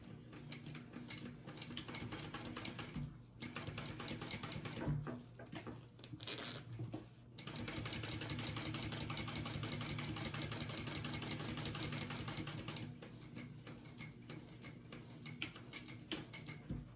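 A sewing machine stitches a zipper pocket in long steady runs of rapid needle ticking, close and fairly loud, with a couple of brief pauses between passes.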